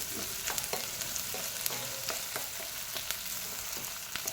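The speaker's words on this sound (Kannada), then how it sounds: "ಈರುಳ್ಳಿ ಚೆನ್ನಾಗಿ ಫ್ರೈ ಮಾಡ್ಕೋಬೇಕಾಗುತ್ತೆ" Onions frying steadily in a pan as the base for a paneer curry, a continuous loud sizzle with scattered crackles and occasional utensil clicks, no voices.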